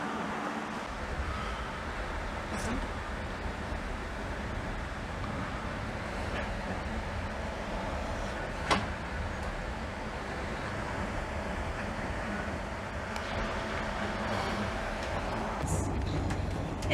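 Steady low rumble of a train riding across the Nullarbor Plain on the way to Cook, South Australia, a continuous broadband roar with faint clanks and one brief knock, no voices.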